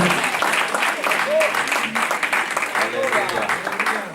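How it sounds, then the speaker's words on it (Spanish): Applause from a church congregation during a sermon, a short burst of many hands clapping with voices calling out over it. "Denle un aplauso"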